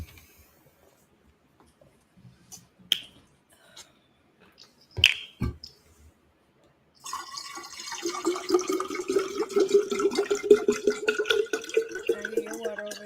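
Water poured into a glass close by, a steady trickling fill lasting several seconds after a few scattered clicks and knocks, with no talking over it.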